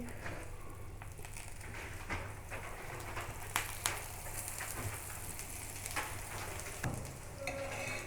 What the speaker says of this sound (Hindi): अब इसमें मैं ऑयल डालूँगी।